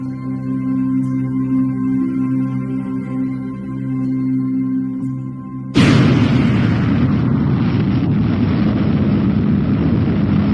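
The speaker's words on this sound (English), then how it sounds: "the Enola Gay is rocked by the blast" Atomic bomb blast over Nagasaki heard from an aircraft about 15 miles from ground zero: a steady droning hum breaks into a sudden loud roaring rumble that carries on to the end.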